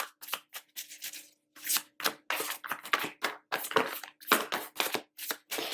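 Tarot cards are shuffled in quick bursts of papery riffling and slapping, repeated in short uneven bouts with brief pauses between.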